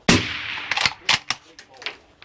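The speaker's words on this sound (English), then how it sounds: "shooting a 300 grain bullet" One close, sharp gunshot from a subsonic round firing a heavy 300-grain bullet, followed by a series of smaller cracks and knocks that die away quickly.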